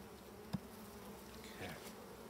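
Honeybees buzz steadily at an opened hive, a dense close drone with a sharp knock and a brief scrape of a frame.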